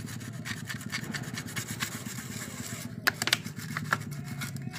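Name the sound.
sanding generator engine piston with sandpaper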